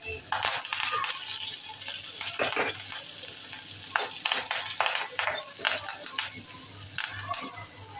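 Asafoetida, finely chopped green chilli and fresh curry leaves hit hot oil for a tempering, giving a steady crackling sizzle with sharp spits and pops, close and moderately loud, alongside light stirring.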